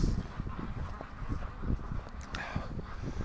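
Ducks gathered on an icy yard make a busy stream of honking, quacking calls, close and loud, overlapping almost continuously with no pauses.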